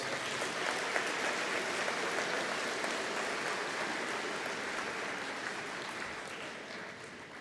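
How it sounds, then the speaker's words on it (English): Sustained audience applause fills a school gymnasium at a high school graduation evening ceremony, a dense steady clapping at close-to-mid distance that fades slightly toward the end, with no talk over it. "Let's give them a round of applause."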